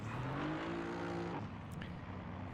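Race car engine revving as it pulls away from the pit lane during a 24-hour endurance race, a distant rising whine through the gears that fades into a steadier background roar.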